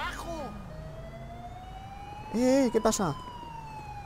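A police siren in the video game GTA 5 rises and falls in wailing sweeps, starting briefly, then continuing as a steady tone beneath short bursts of speech.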